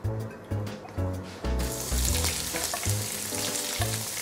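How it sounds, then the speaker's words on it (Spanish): Hot chili peppers sauté in a little oil. A few low, dull thuds open the sound before a bright, sustained sizzle bursts in and carries on steadily up close, with intermittent low thumps underneath. "Voy a rehogar los pimientos"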